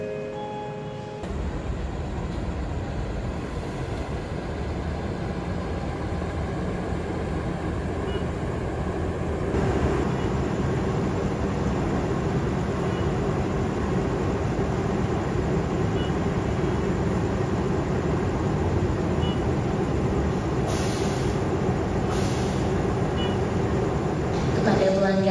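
Purwojaya train, just arrived from Cilacap, standing at Gambir station in Jakarta: a steady low rumble and hum of the idling train fills the platform throughout, with people talking over it.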